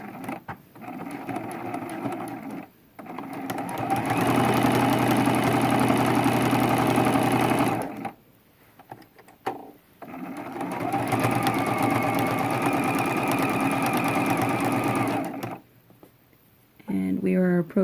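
Sewing machine stitching a pillow seam for a quilted throw pillow with a zipper closure, running in two long, steady bursts with short pauses between them, close and clear.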